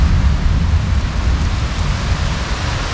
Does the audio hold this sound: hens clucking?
no